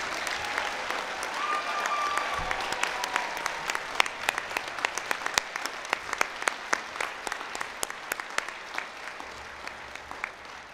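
Graduates of a communication faculty are greeted with warm audience applause at a university graduation ceremony, a steady wash of many hands clapping that thins toward the end into sparser, distinct claps.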